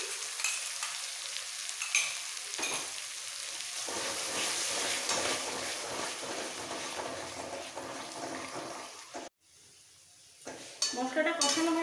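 Spice paste with whisked sour yogurt is stirred and fried for a Bengali katla fish curry, giving a close crackling sizzle with repeated scraping stirs, a short silence near the end and then clinking and sizzling again.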